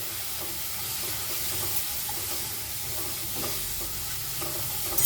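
A banana flower mixture is stirred with rice flour in a pan for Bengali mochar chop, producing a soft continuous sizzle with faint scraping strokes throughout, and no voices.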